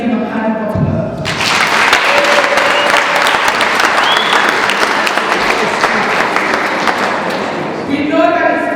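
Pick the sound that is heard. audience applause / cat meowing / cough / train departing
audience applause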